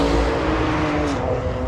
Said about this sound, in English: Cars are out here flying